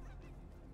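A chicken in the video game Fortnite gives one short, faint burst of clucking.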